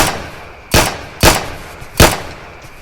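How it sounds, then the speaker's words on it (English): Three loud, sharp gunshots in a Roblox game, spaced unevenly across a few seconds with a quiet hiss between them and no talk. "What are y'all shooting at?"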